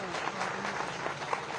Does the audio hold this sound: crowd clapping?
yes